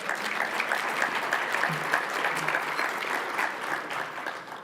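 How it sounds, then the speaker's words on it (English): Audience applause for Congressman John Lewis at an MLK breakfast in Vancouver, a steady dense roomful of clapping running the whole stretch at even volume with a faint murmur of voices beneath. "Round of applause right there."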